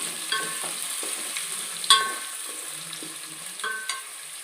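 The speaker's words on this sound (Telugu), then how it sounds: "ఇప్పుడు ఉల్లిపాయలు పచ్చిమిరపకాయలు వేసేసుకుందాము ఇది బాగా వేపుకోవాలి" Onions and green chillies fry in hot oil for a prawn biryani, a soft continuous sizzle with occasional scraping stirs and light clicks of a spoon against the pan.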